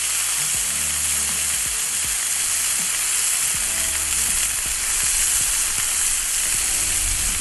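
Smash burger patties sizzle loudly and continuously on a griddle, a dense, even hiss with faint clicks and taps underneath throughout.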